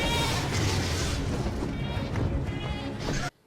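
A goat bleats loudly amid a dense, chaotic burst of noise and crashing sound, continuing for about three seconds before cutting off abruptly.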